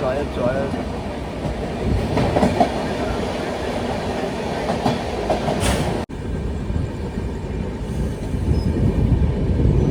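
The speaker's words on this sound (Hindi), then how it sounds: "सामने से ट्रेन क्रॉसिंग हो रही है" Heard from aboard the Purushottam Express near Ghaziabad, another train passes in the opposite direction, with a loud continuous rumble and rhythmic clickety-clack of wheels under steady travel noise, with some voices faintly present.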